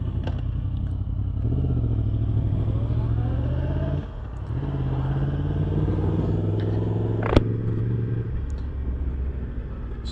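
A Yamaha MT10 SP motorcycle engine hums steadily while riding, with changing engine tones as it shifts through gears, plus a short sharp clack near the end, heard close and over wind noise.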